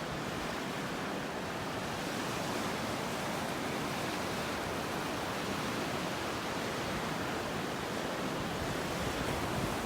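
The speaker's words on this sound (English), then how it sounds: "Isn't that beautiful with those little waves out there?" Small waves washing onto a beach in North Naples, Florida, heard as a steady, broad surf wash with gentle swells, continuous and moderately distant, with no voices.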